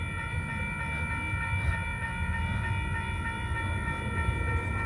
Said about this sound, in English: there's a train a couple blocks away going by again